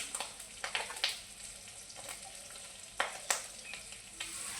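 Fish full of roe fry in plenty of hot oil, a steady close sizzle broken by sharp pops and crackles as the eggs burst, with no talk.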